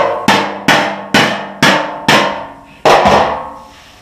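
A hammer strikes sheet metal against a dolly on the rear fender of a 1954 GMC truck, six sharp ringing metallic blows in a steady rhythm, loud and close, each with a short decaying ring.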